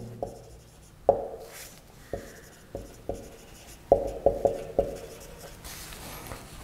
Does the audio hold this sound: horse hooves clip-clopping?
no